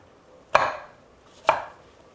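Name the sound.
knife chopping an apple on a cutting board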